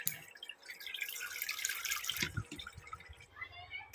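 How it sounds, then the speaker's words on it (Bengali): Water splashes and trickles as spinach is washed in a kitchen, faint and close, with soft running water, a few drips and handling clatter, and a brief louder bump at the end. "আর পালং শাকটা ভালো করে ধুয়ে নেওয়া হচ্ছে"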